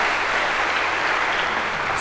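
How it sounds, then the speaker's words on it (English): Dense, steady applause from a lecture hall audience fills the space, continuous clapping at an even level throughout. "now we get your round of applause"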